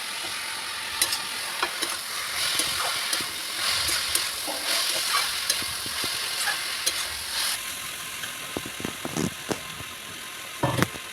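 Taro pieces frying with turmeric in a pan, a moderate ongoing sizzle broken by repeated scraping and clacking of a spatula stirring them, close and without speech.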